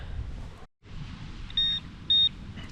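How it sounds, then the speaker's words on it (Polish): Two short, clean high-pitched beeps from a metal detector pinpointer homing in on a target while searching at the beach at Stegna, heard over quiet outdoor background noise. "musiałem użyć propointera, bo ciężko było namierzyć sygnał"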